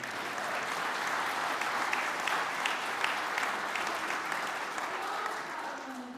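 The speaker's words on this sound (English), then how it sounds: "Give her a round of applause." Steady audience applause fills a service hall, sustained and fairly close at an even level for several seconds, with a faint tone lingering near the end.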